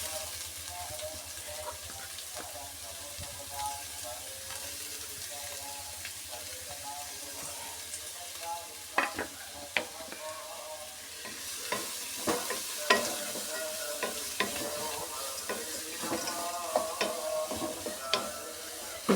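Chopped ingredients for a biryani masala tipped into a hot pan and fried, with a continuous sizzle and spatula scrapes that grow busier and louder partway through.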